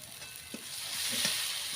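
Spice paste sizzles steadily in a hot pan as it fries for a mustard fish curry, a continuous bright hiss with a few soft stirring knocks, close and alone without voices.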